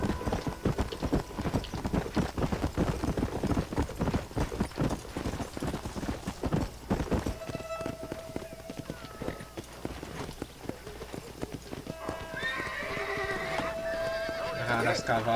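Horses in Red Dead Redemption gallop with loud, dense hoofbeats and neigh, then slow as the riders halt, with game ambience and a talking voice over the hooves.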